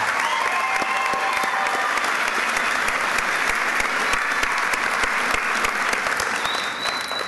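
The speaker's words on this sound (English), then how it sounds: "Let's have another big round of applause for all of our student speakers this evening." A large graduation audience applauds student speakers at an evening high school ceremony, a dense, steady roar of clapping that holds loud and even from start to finish with no voices breaking through.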